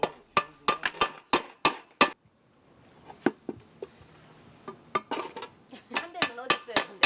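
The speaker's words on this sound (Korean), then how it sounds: "식당 아줌마가 내놓은 냄비와 프라이팬이 손잡이가 말썽인가 보다" Metal pots and frying pans with loose handles being fixed by hand, sharp hammer strikes and clanks in quick bursts, a short quiet pause, then more irregular close metallic knocks and rattles.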